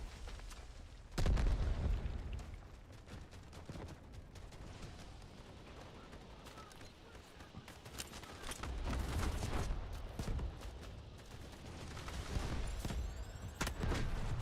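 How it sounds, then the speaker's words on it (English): A grenade explodes in the shooter game Delta Force, a sudden deep boom near the start followed by scattered gunfire pops and rumbling battle noise over several seconds. "That was a grenade."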